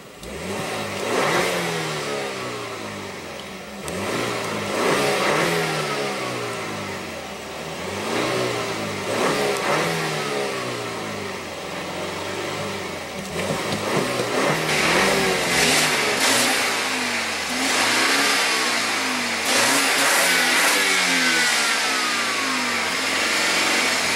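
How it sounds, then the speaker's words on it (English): Engine of a 2017 sports car revving repeatedly from a standstill, loud and close, with the pitch rising and falling in waves through several throttle blips for about twenty-four seconds, no voices over it. "And let's go ahead and rev it up."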